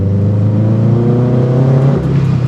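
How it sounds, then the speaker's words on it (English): A turbocharged FRS sports car with a newly installed clutch revs its engine loudly at close range, a steady droning engine tone that shifts pitch slightly as the clutch is dumped. "All you gotta do is rev it up, dump the clutch."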